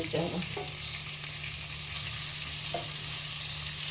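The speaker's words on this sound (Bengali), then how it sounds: "এইভাবে আলুগুলোকে আপনাদেরকে ভালো করে একটু ভেজে নিতে হবে" Boiled potatoes frying in a pan, a steady dense sizzle with a couple of brief stirring scrapes, close and alone without voices.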